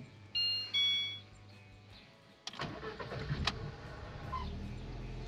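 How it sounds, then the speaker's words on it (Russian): A VAZ car fitted with a Tomasetto AT07 gas (LPG) system cranks and starts nearby, with a couple of dashboard chimes first and then the engine catching and settling into a steady idle, no talking. "Вот, завелась машинка"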